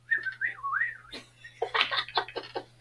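A man whistles a gentle, wavering bird-like melody, imitating birdsong, followed by a quick burst of short chirping whistles, close and clear with a faint steady hum underneath.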